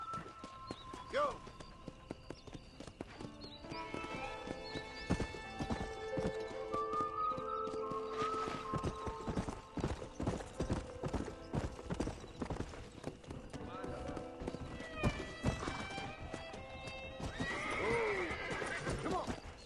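A horse in Red Dead Redemption gallops with a rolling clip-clop of hooves and lets out several loud neighs and whinnies, set within game sound and spoken voices.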